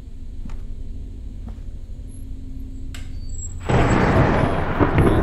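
Thunderstorm in a horror video game: a low rumbling storm bed with faint distant thunder, then a loud crash of thunder and heavy rain-like roar bursting in near the end.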